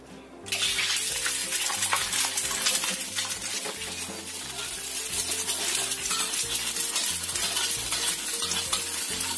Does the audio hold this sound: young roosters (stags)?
no